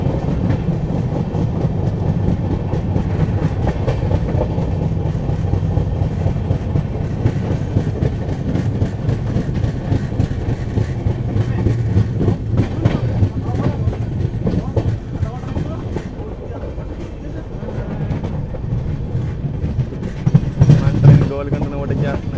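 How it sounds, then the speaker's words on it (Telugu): Amaravati Express rolling along the rails and overtaking the Golconda Express, a steady loud rumble with clickety-clack wheel beats heard from inside the train, with voices talking over it. "Overtaking Golconda Express."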